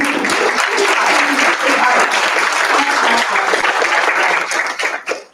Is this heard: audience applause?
yes